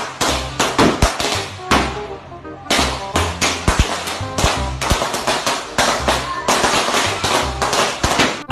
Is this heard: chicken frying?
no